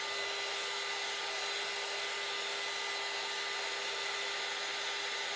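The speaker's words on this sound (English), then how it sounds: "I'm going to do a little bit of drying it with the heat gun" A heat gun blowing hot air to dry a mixed media card, a loud, constant whirring roar held steady throughout with no talking.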